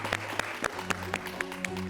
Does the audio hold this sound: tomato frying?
no